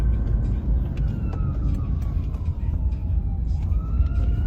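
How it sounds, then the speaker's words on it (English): An ambulance siren wails through busy traffic, a faint rising and falling tone riding over a loud rumbling car engine and road noise heard from inside a vehicle. "there's an ambulance"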